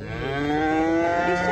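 A cow at a livestock bazaar in Karakol gives one long, loud, drawn-out moo that carries on close and alone throughout.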